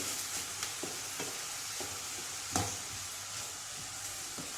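Onions frying in a pan until golden and tender for a fish and pepper tajine, a faint, even sizzle with several soft stirring knocks spaced through it, no talking.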